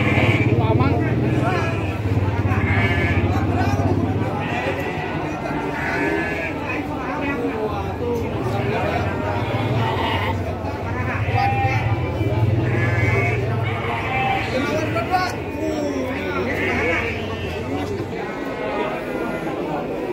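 Garut sheep bleat repeatedly at the Andir livestock market, their calls close and frequent under continuous conversation between people nearby.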